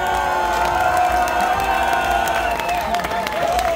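Applause from a concert crowd at a tribute show, steady clapping mixed with sustained shouts and whistles from the crowd, dense and fairly close throughout.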